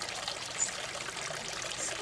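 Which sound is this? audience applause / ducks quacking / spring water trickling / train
spring water trickling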